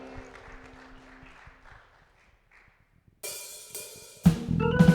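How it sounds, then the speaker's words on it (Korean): A church congregation at a Sunday worship service bursts into applause, a dense, loud clatter of many hands that builds in stages after a quieter stretch of murmuring and shuffling, ending in full sustained clapping. "하나님께 감사와 영광의 박수 올려드리겠습니다."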